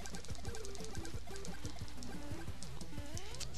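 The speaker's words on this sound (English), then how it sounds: "That's what victory sounds like." A victory jingle from the video game Viewtiful Joe 2 plays as a busy, loud electronic musical fanfare with bouncing notes and a rising sweep at the end, alone with no talk.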